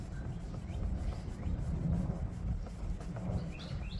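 A rag wetted with lacquer thinner is rubbed over a painted vehicle surface to strip old pinstripes, making a soft, steady, close scrubbing swish that continues without a break and stays quiet throughout.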